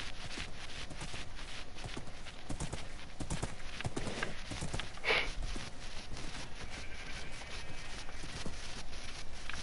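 Horse hooves from the video game Minecraft clip-clop steadily at a walking pace, with a brief whinny partway through and a faint background hum.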